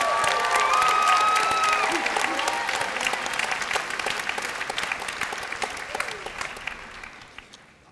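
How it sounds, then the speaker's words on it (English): Audience at a university international institute graduation commencement ceremony breaks into loud, sustained applause with some cheering, the dense clapping gradually thinning and fading toward the end. "So give yourself a cheer and applause."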